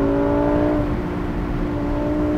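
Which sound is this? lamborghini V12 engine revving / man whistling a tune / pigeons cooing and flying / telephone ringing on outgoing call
lamborghini V12 engine revving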